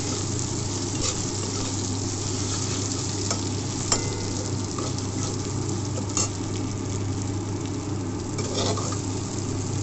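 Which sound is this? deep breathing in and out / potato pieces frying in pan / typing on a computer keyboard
potato pieces frying in pan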